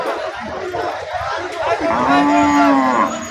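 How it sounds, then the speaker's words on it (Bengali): Cattle at a crowded Eid sacrificial cattle market in Gopalganj, with one loud, drawn-out moo rising midway and holding to the end, under steady crowd chatter and nearby talk. "এখনো অনেক গরু এদিকে সামনে আছে"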